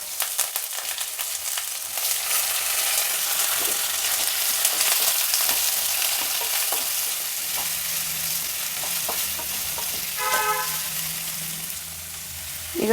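Onion sizzles steadily in a hot pan with mustard seeds, curry leaves and garlic, a dense continuous frying hiss with occasional scrapes of stirring near the end, no voices.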